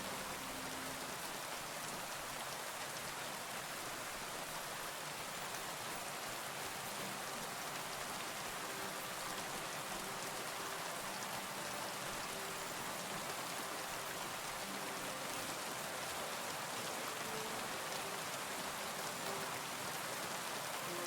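Steady, moderately loud rainfall patters across the ground and surfaces in the medieval Bohemian countryside of Kingdom Come Deliverance 2, a continuous even hiss of drops throughout with a faint low rumble underneath and no voices.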